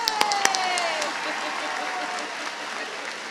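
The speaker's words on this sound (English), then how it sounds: "That's when everybody claps." A high school commencement audience applauds, a steady wash of clapping that holds evenly for a few seconds with a few sharper claps near the start.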